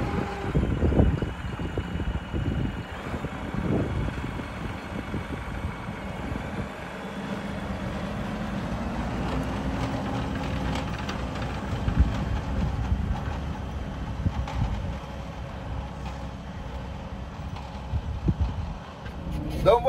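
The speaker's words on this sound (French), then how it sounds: "je suis dans le Fendt, dans le nouveau, le Fendt 209F Vario TMS de 2022" Engine of a 2022 Fendt 209F Vario TMS tractor heard from inside the cab, a steady low rumble and drone running continuously with occasional rattles, a voice briefly talking over it.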